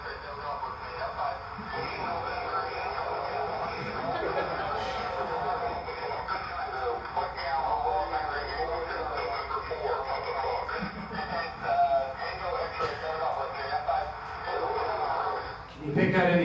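A crowded amateur radio SSB voice pileup from a Marquesas expedition, with many overlapping voices calling at once through crackly, band-limited radio static that runs steadily throughout.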